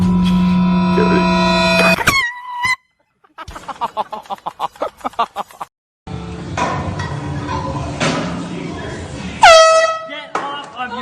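A loud air horn blasts as a prank, long piercing honks at the start and again near the end, with excited voices and shouting in between.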